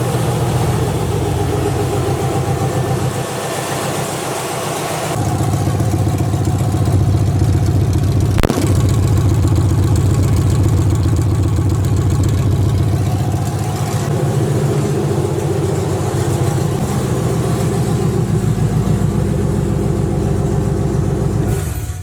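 A loud truck engine fitted with long tube headers idles steadily with a deep, rough, throaty exhaust rumble, close and continuous.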